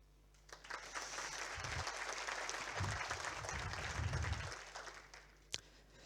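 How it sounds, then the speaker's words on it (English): Audience applause at a network engineering conference swells quickly into a steady wash of clapping from a crowd, holds for several seconds, then fades out with a final stray clap. "So if you could give a round of applause for the PC."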